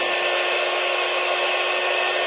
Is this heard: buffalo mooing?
no